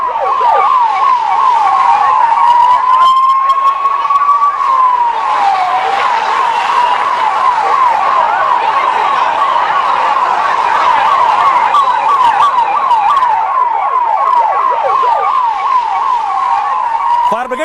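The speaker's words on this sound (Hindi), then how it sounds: "फौरन फायर ब्रिगेड को बुलाया गया मौके पर, क्योंकि पहले से दमकल की गाड़ियां वहां मौजूद थी" Fire brigade vehicles wail at the Maha Kumbh fire. A loud, near siren holds one long rising tone, then cycles in a fast, steady yelp for the rest of the stretch.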